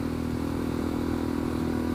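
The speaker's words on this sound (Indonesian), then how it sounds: "Suaranya tuh kalau kita geber terus tuh mirip kayak suara R90 gitu loh." A motorcycle with a custom aftermarket exhaust held at steady revs, a deep, rounded, continuous engine drone with a strong low hum, close and alone without any talk.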